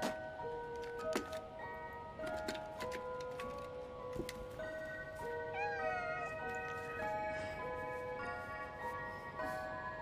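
A cat in the game Stray gives several meows over a soft ticking and tonal game sounds, fairly quiet and spread across the stretch with no talk.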